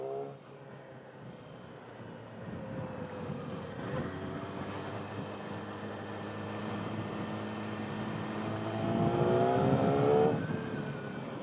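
A 2019 Yamaha R6 sport motorcycle engine runs near the listener at a steady idle, then revs upward toward the end with rising, whining harmonics before settling back down.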